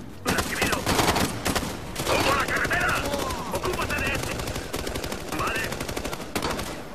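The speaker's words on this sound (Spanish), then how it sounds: "yo estoy disparando a lo loco, pero estoy disparando" Rapid automatic gunfire from the video game Ghost Recon Future Soldier during a co-op campaign firefight, dense sustained bursts of shots close up with brief gaps, voices talking over the shooting.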